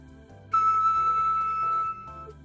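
A flute headjoint played alone sounds one clear, breathy, higher-pitched tone. It starts suddenly about half a second in and holds steadily for around 1.4 seconds before stopping. Quiet background sound runs underneath.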